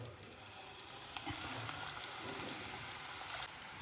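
Steady, dense sizzling of achu palagaram dough frying in hot oil, with scattered crackles and pops, close by and fairly quiet, no voices.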